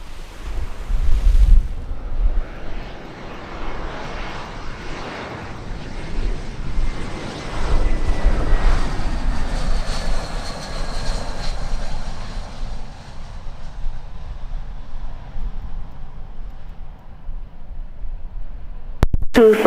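Jet aircraft on approach to runway 07 at Sangster airport, Jamaica, a steady broadband roar with a rising whine that swells and holds for about twenty seconds, mixed with wind buffeting on the microphone and no talk.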